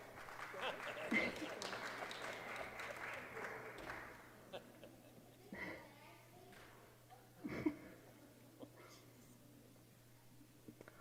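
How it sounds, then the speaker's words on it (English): An audience at a Sunday gathering applauds children with a dense burst of clapping for about four seconds before it fades, followed by quiet rustling and soft voices. "Look at this, they're applauding for you."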